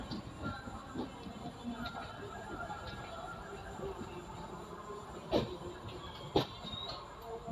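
An Intercity Express train rolls through the Rajendra Nagar rail yard, giving a steady low rumble of wheels on track with sharp clanks and squeals over points, continuous and fairly close.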